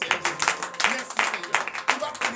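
A church congregation clapping and cheering at a morning prayer gathering, quick irregular claps mixed with voices crying out, loud and close with crowd noise throughout.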